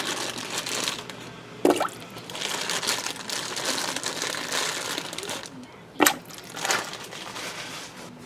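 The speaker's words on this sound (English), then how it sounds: "Add in a couple handfuls of carrots." Handfuls of carrots dropping into tomato sauce, a continuous wet crinkling, squishing texture with two sharper thuds, one early and one later, in a close, fairly loud setting.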